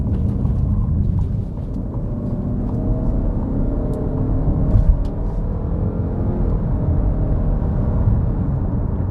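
Ford Kuga ST Line X Edition plug-in hybrid accelerating, a steady low engine and road rumble heard from inside the cabin, moderately loud and continuous with no talking.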